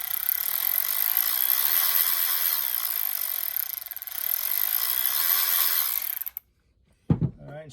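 Milwaukee M12 3/8 inch cordless ratchet running, a continuous whirring buzz with a brief dip, then stopping abruptly into silence, followed by a short clunk.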